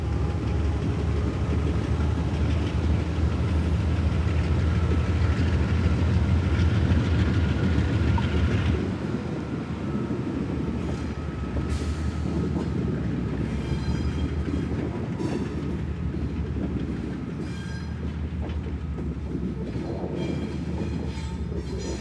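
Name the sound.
P&W freight train engines hauling tank car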